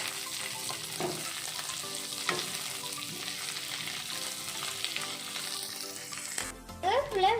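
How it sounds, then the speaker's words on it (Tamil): Curry leaves sauté in a pan for a curry leaf thokku, giving a steady, close sizzle with a few stirring scrapes before a brief change in sound near the end. "இப்போ இதில் கருவேப்பிலையை போட்டு வதக்கிக்கலாம்."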